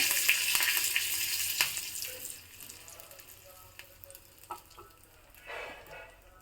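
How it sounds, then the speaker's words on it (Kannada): Curry leaves crackle in hot oil tempered with mustard seeds and asafoetida. A loud, close sizzle with scattered pops gradually settles into a fainter hiss, with a short flare near the end. "ಸಾಸಿವೆ ಸ್ವಲ್ಪ ಸಿಡಿಯೋ ಹಂತಕ್ಕೆ ಬಂತು ಅಂದಾಗ ಕರಿಬೇವಿನ ಸೊಪ್ಪನ್ನು ಹಾಕಿದ್ದೀನಿ"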